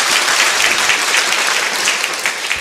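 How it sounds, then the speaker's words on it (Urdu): Audience applause breaks out for a contestant at a quiz competition: dense, steady clapping from a crowd that holds at an even, loud level throughout with no talking over it. "تالیاں ہو جائے پارٹیسپینٹ اے کے لیے"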